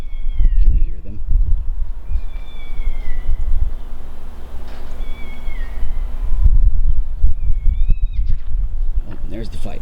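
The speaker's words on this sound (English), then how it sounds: "There's about to be a cat fight in the distance." Distant cats yowling and caterwauling in a fight outdoors, thin wavering cries rising and falling in a few separate bursts over steady low background rumble and noise.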